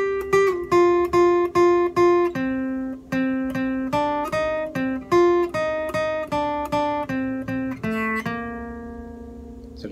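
Solo guitar picks the melody phrase of a bachata song, a steady run of clear plucked single notes with ringing repeated pitches, close and alone.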